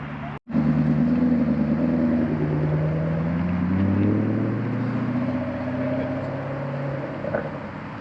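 A McLaren 570 sports car engine rumbles deep and steady at a breakfast car meet, its throaty tone shifting slightly as it idles and revs gently.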